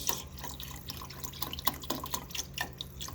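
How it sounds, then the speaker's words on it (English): Liquid pours from a carton of broth into a pot for chicken noodle soup, a steady splashing stream with small irregular drips and gurgles, close and fairly quiet. "You want this to pour rather than glug."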